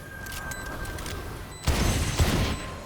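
Gunfire in Valorant breaks out after a quieter stretch, with a couple of loud, sharp volleys landing close together in the second half and no talking over them.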